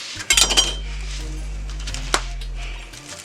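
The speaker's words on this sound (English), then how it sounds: "I got the old mortar and pestle out" A mortar and pestle being handled, with a few sharp clinks and knocks of stone or ceramic near the start and one more knock later, close up over a steady low electrical hum.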